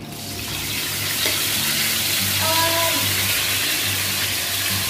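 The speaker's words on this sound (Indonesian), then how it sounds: "Karena minyaknya udah panas, jadi nggak perlu lama-lama ya guys gorengnya." Egg batter for otak-otak frying in hot oil, a steady close hiss and sizzle with faint watery crackle that holds evenly throughout, no voices.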